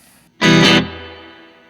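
An electric guitar played through a UAFX Dream pedal's Fender amp model strikes a loud, bright chord that rings hard for a moment, then decays into a long sustained tail, heard alone and close.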